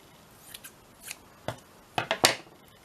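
Scissors snipping paper while making a junk journal cover from an old book: a handful of sharp, close cuts, scattered at first and then three quick snips in a row, with no talking.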